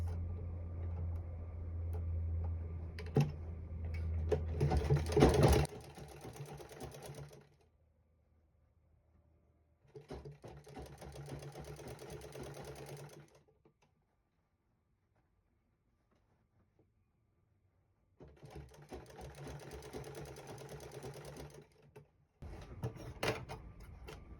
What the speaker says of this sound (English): I'll fold it in like this and sew it in a bit.